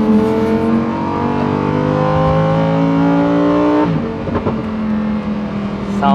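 A Lamborghini Huracán STO's naturally aspirated engine revs hard and loud under acceleration, pitch climbing steadily through a long pull before a quick shift drops it and it starts rising again.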